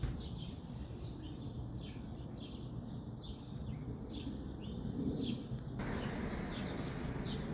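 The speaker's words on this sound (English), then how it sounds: "Here goes the birdies. You hear them chirping? What a beautiful sound that is, huh?" Small birds chirp and tweet repeatedly in an outdoor garden on a calm morning, the calls moderately close over a steady low rumble of background noise.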